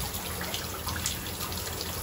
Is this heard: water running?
yes